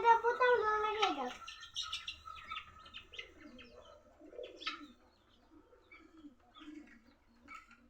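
Pigeons and chickens kept together in a coop coo and chirp, with a clear warbling coo at the start followed by softer, sparse calls and faint rustling, close but fairly quiet.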